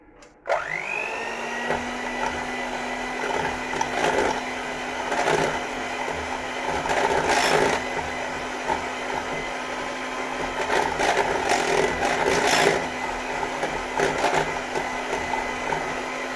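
An electric hand mixer whips yogurt at close range, its motor humming steadily with occasional rattling bursts as the beaters move through the thick mixture.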